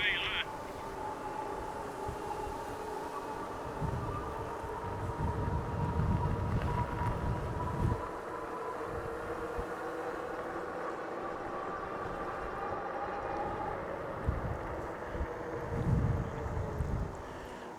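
Steady wind buffeting a microphone while riding electric bikes on backroads, a rough low rumble running throughout with gusts swelling now and then, beneath a rider's voice.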